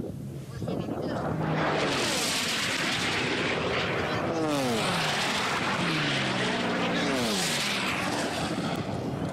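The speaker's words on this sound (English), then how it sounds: "Joel Swagger and Dreadnought coming around the back of the course, going down towards the Valley of Speed." The Unlimited-class racing airplane Dreadnought roars past on the course at the Reno Air Races, a loud continuous piston-engine drone that swells and shifts in pitch as it passes, with an announcer talking over it.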